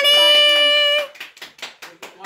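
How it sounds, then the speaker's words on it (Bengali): Several people clap at a wedding anniversary celebration marking 17 years of marriage, an uneven patter of hand claps that follows a sustained sung or held tonal note. "হাততালি।"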